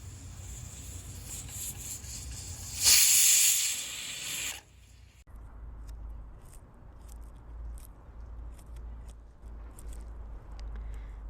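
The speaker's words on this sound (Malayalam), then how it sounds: "കുക്കറിലാണെങ്കിൽ ശരിക്ക് ഒറ്റൊരു വിസിൽ അടിച്ചാൽ മതി." A pressure cooker cooking soaked fenugreek rice lets out a sudden loud burst of hissing steam that lasts about a second and a half, then fades into a quiet kitchen background.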